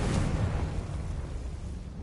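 A Confringo blasting spell in the Hogwarts Legacy video game goes off in a single loud, close explosion that booms at once and then rumbles and fades over about two seconds.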